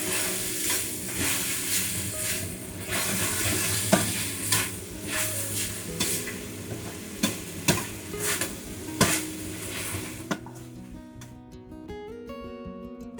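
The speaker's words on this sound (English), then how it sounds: "Add garlic leaves. Stir fry evenly." Beef stir-fried with pickled greens and garlic leaves in a hot wok, a steady close sizzle broken by repeated scraping stirs and clanks of the spatula, fading to a quieter crackle at the end.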